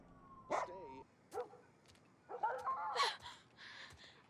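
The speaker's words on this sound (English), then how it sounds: "Farewell, dog." A dog barks and yips in a few short bursts with whimpering tones between them, and a voice can be heard alongside.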